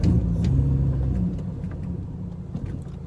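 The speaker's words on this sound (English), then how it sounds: "I pretty much naturally rev match anytime I'm driving my car." A manual-transmission car's engine rumbles close by with a low, steady drone, easing slightly in pitch and loudness while driving, with small clicks and knocks over the top and no talking.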